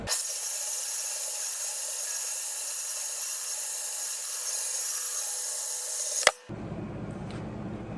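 A saw cuts through a 1-inch square bar of 4140 steel with a steady, bright, sustained grinding whine that holds for several seconds, then stops abruptly with a sharp final burst as the piece parts.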